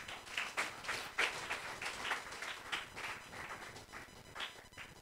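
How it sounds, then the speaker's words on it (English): Church congregation clapping hands during a sermon, a faint, distant, steady patter of many hands with a loose rhythm and no talk. "Clap your hands to Jesus."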